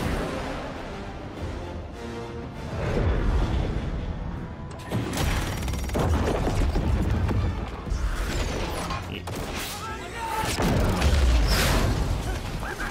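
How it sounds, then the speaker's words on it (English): Repeated booming explosions and crashing debris from the Call of Duty Black Ops 6 campaign, loud and dense over a mechanical rumble, with heavy bursts returning throughout and no talk. "Explosions!"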